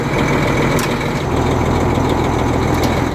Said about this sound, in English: This truck has been idling for probably 30 or 40 minutes.